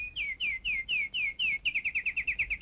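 A bird calls repeatedly and loudly up close, a run of descending whistled chirps that quickens into a rapid trill near the end, with no talking.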